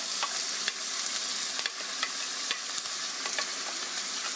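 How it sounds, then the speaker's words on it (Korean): Chopped onion and garlic sizzle with ground meat in a pan for tofu stew, a steady bright frying hiss with soft, regularly spaced stirring taps, close up and without talk. "양파가 투명해질 때까지 볶아주세요"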